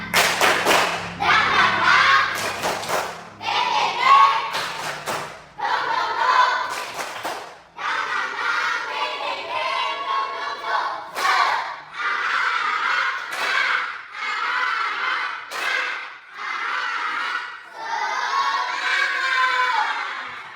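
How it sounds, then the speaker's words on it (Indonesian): A school class performs the rhythmic 'tepuk semangat' clapping chant, bursts of patterned clapping and slapping alternating with children's shouted chant lines, loud and close, repeating in short phrases. "Ayo, tepuk semangat."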